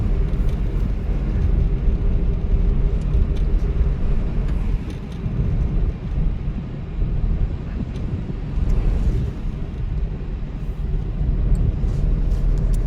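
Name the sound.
car engine revving while climbing a flyover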